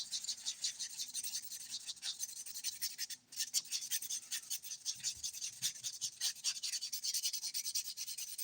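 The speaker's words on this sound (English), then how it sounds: "I'm going to buff the nails super quickly." A buffer rubs quickly over fingernails in rapid, rhythmic back-and-forth strokes, a close, faint, dry scratching that continues throughout with a brief pause partway.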